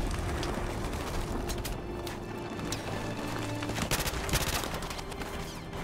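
Gunfire in Call of Duty: Modern Warfare Remastered, a steady clatter of rapid shots and mechanical rattles running through the whole stretch at a fairly even, dense level, with no talk.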